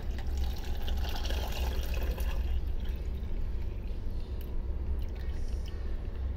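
Hot pudding mixture pours slowly from a vessel back into a cooking pot, a soft continuous liquid trickle and splash close by, quiet and without talk.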